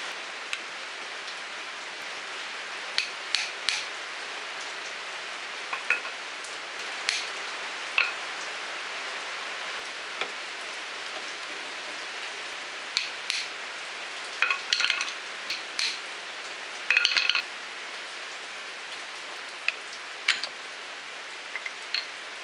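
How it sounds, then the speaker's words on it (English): Steady rain patters outside a workshop during repair of a Polaris 400L crank, a constant hiss of drops with scattered sharp ticks and taps from tools or dripping, no voices. "Sorry about the rain noise, guys."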